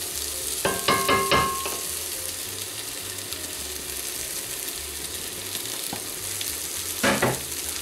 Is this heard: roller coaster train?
no